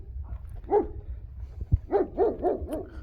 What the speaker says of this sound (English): Puppy dog's talking to me.